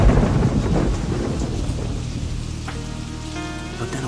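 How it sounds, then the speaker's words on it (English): A thunderstorm with steady heavy rain and a deep rumble of thunder rolling loud at first, then easing, as rain keeps pattering on surfaces throughout. "he heard a loud crash of thunder"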